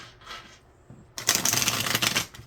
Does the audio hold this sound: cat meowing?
no